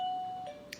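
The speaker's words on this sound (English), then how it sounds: "doorbell, my dog wants to come in." A household doorbell chimes once, a faint sustained electronic tone that slowly decays, followed by a soft tap near the end in a quiet room.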